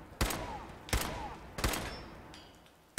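Gunfire in Fallout 4: three sharp, separate shots spaced roughly evenly apart, each ringing out briefly, with a faint metallic clink near the end.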